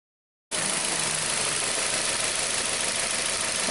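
Continuous engine noise from a 2012 Hyundai Accent with a cranks-starts-stalls fault, a steady loud broadband roar running with no break after a sudden start, with no voices.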